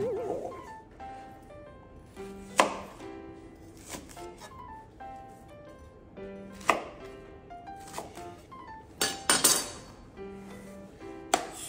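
A knife chops an onion on a cutting board in irregular bursts of sharp taps, close up, with faint clinks between cuts.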